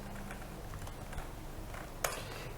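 Typing on a computer keyboard while editing a settings file on a computer, faint close key taps over quiet room noise with one sharper click near the end.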